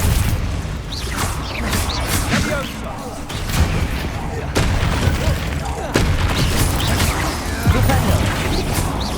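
Depulso spell blasts in Hogwarts Legacy combat strike in a loud run of heavy booms and crashing impacts, with mechanical clatter between hits and a voice calling out now and then.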